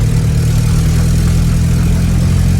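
A Mini's small 37-horsepower engine drones loud and close in the cabin, a steady low hum without clear gear changes.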